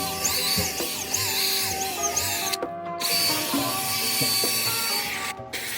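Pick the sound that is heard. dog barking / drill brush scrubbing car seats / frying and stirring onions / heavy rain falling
drill brush scrubbing car seats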